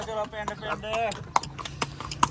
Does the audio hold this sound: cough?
no